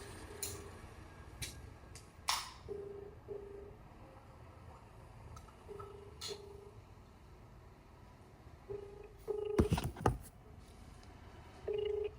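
Phone call tones heard through a handset: short, evenly spaced electronic beeps repeating in pairs, interrupted by a few sharp clicks and a brief louder rustle near the end.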